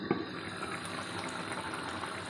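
Taro leaf curry (aluchi bhaji) bubbling in a pot, a soft continuous simmer with faint liquid blips, heard close and quiet on its own.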